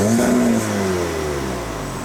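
The engine of a Stage 2 MK7 VW Golf R revs close by, one quick rise in pitch that settles into a steady, fading drone with no talk over it.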